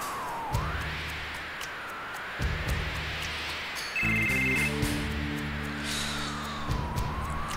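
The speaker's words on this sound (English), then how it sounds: "Phone call?" A phone rings inside the video game Final Fantasy VII, a synthesized chiming tone sounding in repeated bursts over the game's ongoing background music, clear and close with no talking.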